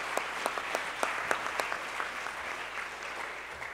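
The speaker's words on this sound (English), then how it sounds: "Give yourselves a round of applause." Applause from an audience, a steady wash of clapping with a few sharper claps standing out near the start, moderately distant, no voices.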